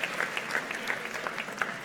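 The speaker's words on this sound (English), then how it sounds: "Why don't give her a little applause for the photographer?" At a university master's graduation ceremony, the audience claps for the photographer in a brisk, even round of applause from a sizable crowd, with no voices over it.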